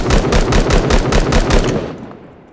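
Rapid automatic bursts from an MK14 DMR rifle in the Timeless and Classics gun mod, about eight loud evenly spaced shots in quick succession, then a fading tail.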